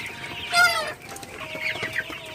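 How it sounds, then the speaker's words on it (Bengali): Golden super hybrid chickens clucking at night while they feed, with one louder, nearer squawk standing out briefly over a steady low murmur of fowl sounds. "তো রাতের বেলায় মুরগিগুলা খাবার খাইতেছে"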